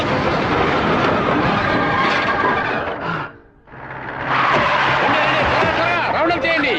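A train rumbles loudly along the tracks with shouting voices mixed in; the noise briefly dips before the heavy rolling clatter returns.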